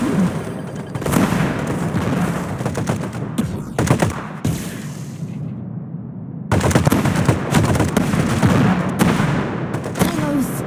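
Rockets and heavy gunfire in the mobile shooter Ricochet Squad: dense, loud, continuous bursts of shots and booms, cut off by a brief near-silent gap, then resuming just as intensely.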